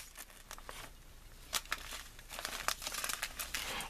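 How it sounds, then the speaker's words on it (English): A paper shaker envelope from a craft swap is handled close by, giving soft crinkling and rustling with small crackly bursts that grow busier toward the end. "Is this one of your shaker envelopes?"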